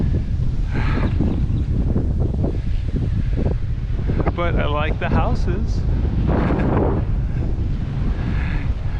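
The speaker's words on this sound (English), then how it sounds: "So yeah, very windy." Strong wind roars continuously over the microphone while cycling along the Gulf coast between Mississippi and Alabama, a loud steady buffeting that stays constant throughout, with a person talking briefly over it.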